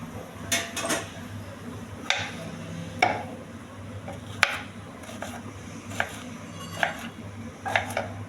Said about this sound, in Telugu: బీరకాయలండి చిన్నగా కట్ చేసుకోవాలి.